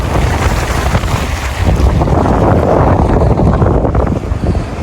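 Strong wind roars and buffets the microphone continuously, loud and gusty, with a rushing sea-like wash underneath, on a beach in Çeşme, Turkey.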